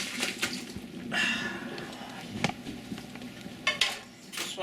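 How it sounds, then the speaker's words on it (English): Cooked macaroni is tipped into a strainer, boiled water splashing and draining in uneven bursts with light clatter of pot and colander, fairly quiet and close. "now that the water's all boiled and the macaroni is all cooked, we want to strain it"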